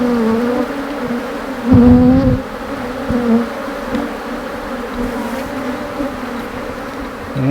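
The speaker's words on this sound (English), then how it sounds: "They're honeybees." Steady droning buzz of many bees, continuous and fairly loud, with a few louder swells as individual insects pass close by.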